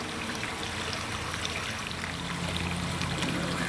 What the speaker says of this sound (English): last of the water is draining down from the shallow end